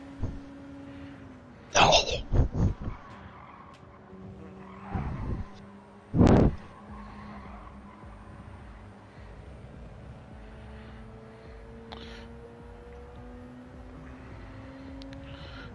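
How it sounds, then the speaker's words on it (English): A race car's engine with a raspy note like a straight-piped 1984 Datsun pickup, heard as a steady low drone with shifting tones, broken by a few short, loud bursts. "it sounds like a straight piped like 84 Datsun pickup"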